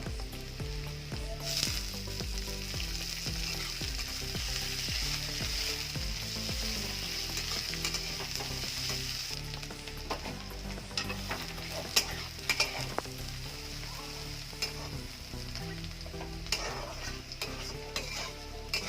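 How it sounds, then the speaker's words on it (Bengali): Onion and tomato fry together in a pan for a leftover-rice dish, giving a soft, continuous sizzle with occasional stirring scrapes over a quiet, tonal background. "টমেটোটা ভাজা ভাজা হয়ে এসছে এবার পেঁয়াজটা দিয়ে দেবো"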